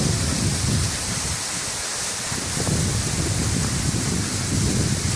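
Spray from the Varjhot waterfall drifting down in the wind like rain, a dense, steady hiss of falling water with gusty rumble underneath, continuous and close throughout.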